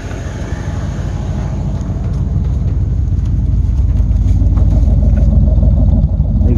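A Ford 2100 carburetor-fed engine, with its carburetor freshly replaced, runs steadily nearby at a low, rough idle that holds throughout and grows slightly louder toward the end, with no one talking.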